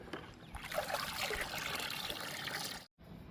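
Sour buttermilk liquid fertilizer trickling and splashing steadily onto garden plants such as marigolds, a continuous close watery pour that stops abruptly near the end.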